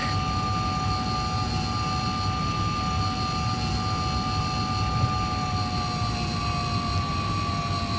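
A Hawker Sea Hawk jet taxis in Flight Simulator 2020, with a loud, steady engine roar and a constant high whine that hold evenly throughout and no talk.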